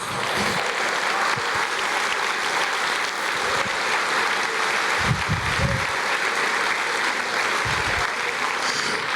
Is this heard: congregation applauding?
yes